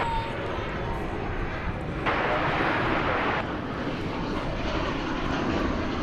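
A Delta airliner departing DFW Airport gives a loud, continuous jet engine roar that swells midway, with a voice talking faintly underneath.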